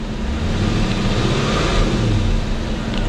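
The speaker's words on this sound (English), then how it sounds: "now you can hear the engine running" Honda Clarity plug-in hybrid with its petrol engine idling in neutral, a steady low rumble with a faint mechanical hum, close and continuous throughout.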